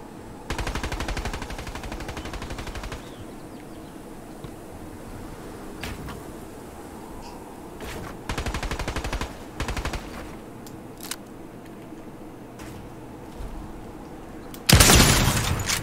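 Automatic gunfire in a video game comes in several loud rapid bursts, with isolated single shots and quieter stretches between them, ending with a sharp louder crack.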